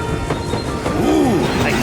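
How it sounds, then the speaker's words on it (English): A train arriving in a soccer cartoon, a loud, close rumble of rail noise with a brief rising and falling squeal of wheels near the middle. "our train is here."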